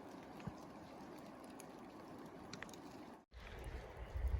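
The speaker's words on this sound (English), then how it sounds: "You can hear the river running down there," River running somewhere below an Appalachian Trail overlook, a faint continuous rushing wash with no voices, briefly interrupted near the end before returning.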